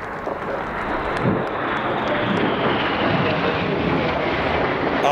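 Aircraft fly over the RIAT 2018 Royal Air Force centenary air show with the Red Arrows, a loud sustained jet engine roar with wind noise.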